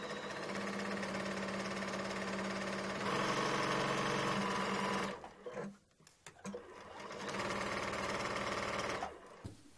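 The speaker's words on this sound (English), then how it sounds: "I'm just gonna use the width of my presser foot, which is just over a quarter of an inch" A sewing machine runs steadily, stitching the side seam of a skirt with pockets at a quarter-inch seam allowance. Two long, loud bursts of rapid mechanical whirring are split by a short pause with a few handling clicks, and no one speaks.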